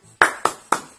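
A primary school class claps the rhythmic tepuk semangat cheer: three sharp, evenly spaced claps ring out close by after a brief quiet start, each decaying quickly.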